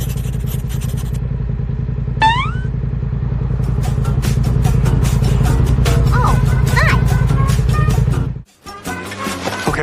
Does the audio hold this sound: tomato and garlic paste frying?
no